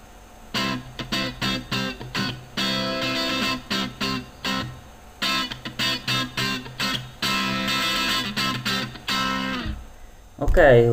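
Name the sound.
guitar sample with distortion effect from LabVIEW multi-effect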